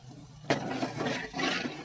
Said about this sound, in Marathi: पाणी टाकून रस्सा पातळ करून घ्यायचा